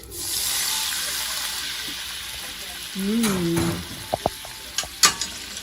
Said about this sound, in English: We're gonna put a ladle of pasta water.